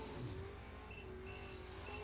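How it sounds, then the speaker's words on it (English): A little Chevrolet Vega wagon launches down the drag strip at a bracket race, its engine a steady, distant roar heard faintly and continuously over open-air ambience. "Oh boy, another wheelie again. Little Vega wagon."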